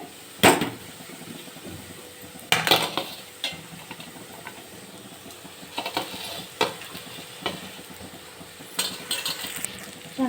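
Bitter gourd pieces tossed into a frying pan with garlic chili powder are stirred with a spatula, giving several sharp scraping clacks against the pan over a low continuous sizzle.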